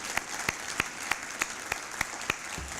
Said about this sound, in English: So how about a round of applause for both of them?